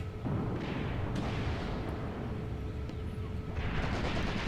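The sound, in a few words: grenade explosion in the video game Graviteam Tactics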